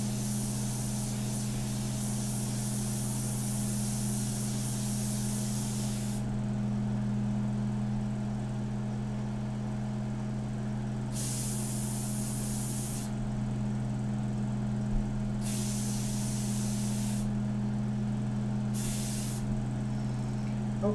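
An airbrush loaded with India ink, set up for detailed portrait painting, gives off several separate bursts of steady spraying hiss over a constant low mechanical hum, with no voices.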